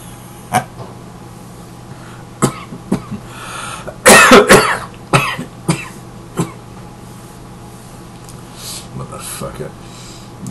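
A man coughs repeatedly and harshly at close range, with scattered sharp hacks and a loud cluster of rough coughs in the middle, amid quiet background hum and no talking.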